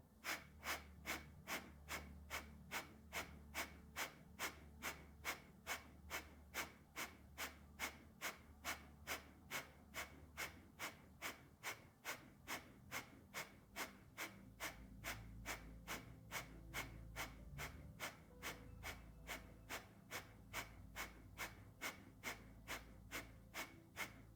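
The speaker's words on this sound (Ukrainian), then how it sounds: "І з видихом капалабхаті в комфортному ритмі без рахунку." Kapalabhati yoga breathing: a long, steady series of sharp, forceful nasal exhalations at an even, quick rhythm, close and clear with no talk over it.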